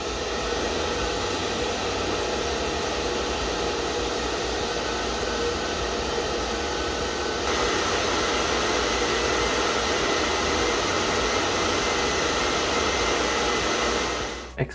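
A hair dryer runs steadily at close range, giving a loud, even broadband whoosh with no pauses and no talk, until it cuts off abruptly at the very end.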